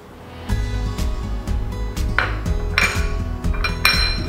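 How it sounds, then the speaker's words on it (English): Sugar, cheddar cheese and chopped apples being mixed in a bowl, a utensil knocking and scraping against the bowl in steady repeated clinks and thuds, close and fairly loud, with no talk. "we are going to blend in the rest of the ingredients. The sugar, the cheddar cheese, the chopped up apples"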